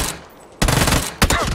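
Gunfire in a PUBG match: two short, loud bursts of shots ring out after a quiet, hissy lull, the second volley sharper and briefer than the first.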